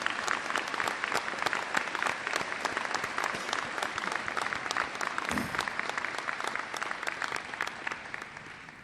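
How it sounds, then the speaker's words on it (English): A crowd at the 829th send-off ceremony in Richland Center applauds veterans. Dense, continuous clapping from many people holds steady, then tapers slightly toward the end, with no speech. "Give yourselves a round of applause."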